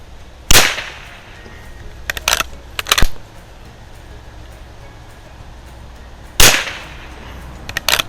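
A color case hardened 1941 Marlin 39A lever-action rifle fires outdoors at targets: four loud, sharp cracks at irregular intervals, each followed by a short tail, with quiet between them.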